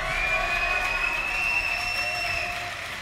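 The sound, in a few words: crowd applause at League of Legends final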